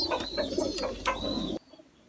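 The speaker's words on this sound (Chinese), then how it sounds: "明显是一只病鸽子啊。" A sick pigeon with wet, teary eyes and a reddened nose coos in a shed, several soft low coos close by and alone, ending abruptly into near silence.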